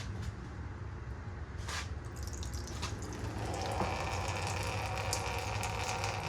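Dirty water draining out of a seized Mighty Mac 8c skid steer and splashing into a pan below, a steady close spatter with scattered drips that grows slightly louder and denser partway through, without speech.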